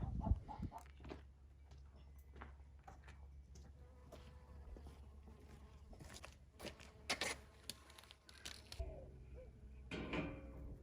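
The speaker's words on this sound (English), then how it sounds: "You hear all these chickens making a ruckus" Chickens on a farm cluck and squawk in a scattered, busy chorus at a moderate distance, with buzzing insects and occasional knocks in the background.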